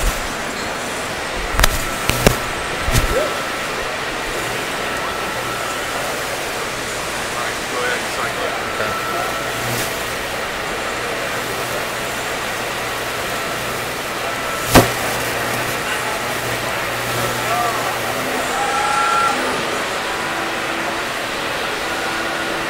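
A new 55-ton, 7-foot Adira BlueBender all-electric press brake, model BB-5020, cycles on its servo drive motors, giving a steady mechanical hum and drone with a few sharp knocks, heard up close in a workshop.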